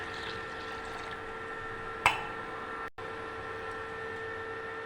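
Water pours steadily into a pan of milk on a home kitchen stove, a soft continuous trickling close by with a brief clink midway and no talk.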